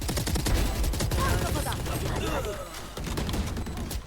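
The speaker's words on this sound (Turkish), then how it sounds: "Arkadaşlar ben Phoenix'e 274 vurmuşum." Rapid gunfire from weapons in the tactical shooter game Valorant, a dense, continuous fusillade of shots at close range that carries steadily through the whole stretch with no pause.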